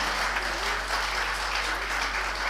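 Sustained audience applause fills the hall at a Tamil-language political speech event, a dense, steady wash of many hands clapping at moderate loudness with no talk over it.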